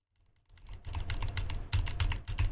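Rapid keyboard typing, close and clear, with irregular clusters of key clicks that start after a brief quiet moment and continue steadily.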